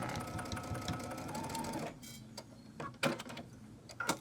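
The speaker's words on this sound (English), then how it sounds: "I'm using my brother's Dream Machine. It's a embroider, sew, it quilts, does a whole lot of things." A Brother Dream Machine sewing and embroidery machine stitches a clutch wallet, running in a steady close whir for about two seconds, then stopping and leaving a few scattered mechanical clicks and taps.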